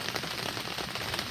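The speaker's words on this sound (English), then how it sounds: "you can hear the rain is still raining very hard right now" Heavy rain pounds steadily on a tent at a campground near Gatlinburg, Tennessee, a dense, even patter with no voices over it.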